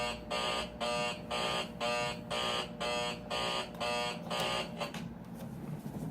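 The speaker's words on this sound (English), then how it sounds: "That alarm there is retarded." An electronic alarm beeps in a steady repeating pattern of about eight evenly spaced pulses, fairly faint and then stopping, with no voice over it.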